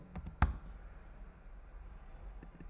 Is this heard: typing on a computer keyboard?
yes